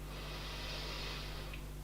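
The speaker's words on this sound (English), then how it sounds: "And again, breathing in" One slow, deep in-breath from a person in an exercise class, a steady airy rush that holds for nearly two seconds with no talking.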